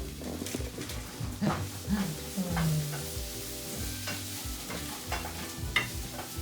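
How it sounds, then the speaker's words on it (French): Vegetables cooking in a pan during a family dinner, a close, continuous sizzle with scraping stir strokes and faint background voices underneath. "en ce moment, on cuit les légumes"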